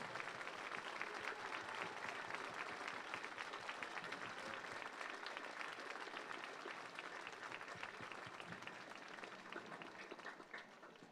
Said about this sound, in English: Please join me in a round of applause and a salute to their service.